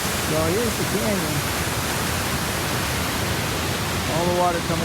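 Water rushes down a rocky mountain canyon as a steady, broadband roar that fills the whole clip, with a voice speaking over it near the start and end.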